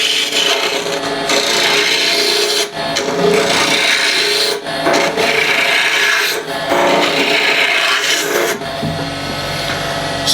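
A lathe gouge or scraper cutting into a spinning red resin and wood box, loud scraping and rasping in repeated passes separated by short pauses.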